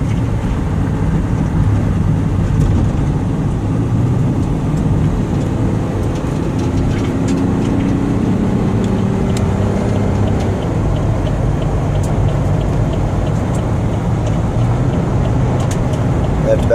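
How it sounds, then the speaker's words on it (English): A 2007 Chevy Uplander wheelchair-accessible van cruising at highway speed, around 65 mph, with a steady low engine drone and road rumble throughout, plus a few shifting engine tones and no speech. "give it some gas so you can hear the engine work"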